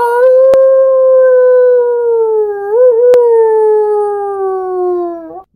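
A person imitates a wolf howl with one long, loud, sustained vocal tone that wavers briefly in the middle, then slides down and stops abruptly.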